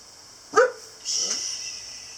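A dog gives one sharp, close bark, then a faint second yelp a moment later over a steady high hiss.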